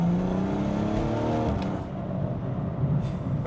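A BMW M135i with an N55 engine and stage 2 upgrade accelerates hard, its loud, rising engine roar climbing steadily and then easing off, heard close from inside with no talk.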